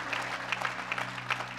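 Church congregation applauding in a steady, dense patter of claps with a few sharper bursts, alongside a low sustained hum.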